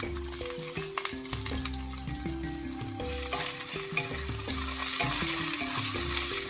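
Ginger frying in hot oil in a pan while rice-rava upma is being made: a continuous close sizzle that grows slightly louder toward the end, over a steady stepped tonal background like music.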